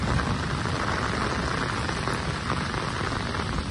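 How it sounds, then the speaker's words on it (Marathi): Heavy monsoon rain pours down at a riverside, a dense, loud, unbroken hiss of drops striking water and ground, with no voices. "पाऊस बघा किती जोरात पडता"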